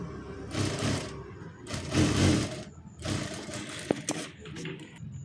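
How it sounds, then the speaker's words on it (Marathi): A sewing machine stitches a blouse sleeve in three rapid whirring bursts separated by short pauses, followed by a sharp click and a few lighter taps. "5 इंच आपल्याला असं बारीक शिचून घ्यायचे इथं"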